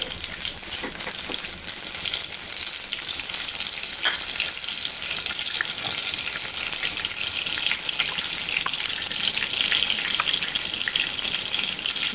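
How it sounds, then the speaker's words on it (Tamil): Mustard seeds spluttering in hot oil for lemon pickle, a dense continuous crackling sizzle with scattered sharp pops, loud and steady throughout with no talking. "நீங்க ஆயில்ல கடுகு போடும்போது இப்படி நல்லா அது பொரியணும்."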